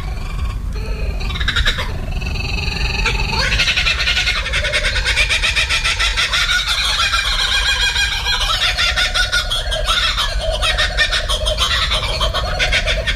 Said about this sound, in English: there's two Australian kookaburras laughing at each other.